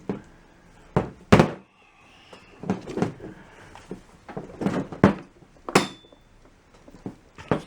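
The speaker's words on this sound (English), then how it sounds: "And then the door falls out when we do that." A plastic battery door drops out of a Schumacher SJ1332 jump starter once its screws are removed, giving a close series of sharp knocks, taps and light clattering hits spread irregularly over several seconds, with no talking.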